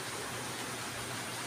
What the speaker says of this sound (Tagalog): Naririnig ko naman, umuulan pa.